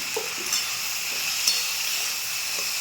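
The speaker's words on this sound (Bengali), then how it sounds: "এটাকে আর একটু ভেজে নেবো ভালো করে" Turmeric, salt and spices fry in a pan, giving a steady close sizzle with soft stirring scrapes and a few brief clinks, no voices.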